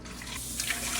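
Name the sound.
pouring water into a pressure canner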